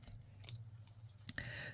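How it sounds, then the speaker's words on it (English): Trusty scissors snip while trimming excess from a handmade paper snowflake ornament, giving a few brief, close, crisp cuts at intervals over a quiet room hum, ending in a steadier scraping swish. "I'm just going to grab my trusty scissors"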